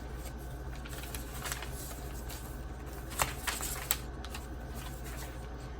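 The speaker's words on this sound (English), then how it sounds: "Another little card flip." A paper card in a vintage school-nurse-themed junk journal is flipped over, giving soft, quiet paper rustles with a couple of brief crisp flicks near the end.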